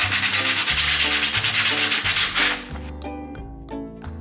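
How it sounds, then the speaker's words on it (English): Sandpaper rubbed by hand across a cheap dollar-store wooden sign, steady scratchy back-and-forth strokes close up, loud and continuous at first, then easing into lighter, sparser rubs. "So I'm gonna start by sanding it."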